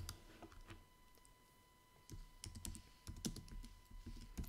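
Keys tapped on a computer keyboard in quick, uneven bursts of clicks, a few typed words of text entered in a graphics program, close and fairly quiet with short pauses between clusters.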